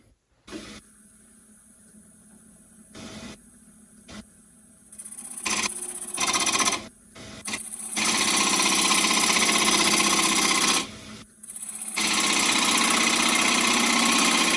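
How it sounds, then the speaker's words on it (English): Green elm bowl spinning on a wood lathe while a 3/8 spindle gouge cuts it, a loud steady hissing, rushing roar that starts and stops in bursts before running continuously, close and without talk. "I do all this kind of stuff with a 3/8 spindle gouge."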